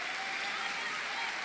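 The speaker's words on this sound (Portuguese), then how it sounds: "Aplauda mesmo Jesus, porque a palavra dele é poderosa." Sustained applause from a church congregation during a sermon, a steady even wash of clapping at moderate distance with no voices on top.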